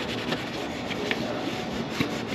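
A cloth rubs black polishing residue off the aluminum skin of an Airstream trailer, making a continuous close scrubbing swish with faint rhythmic strokes and no voices.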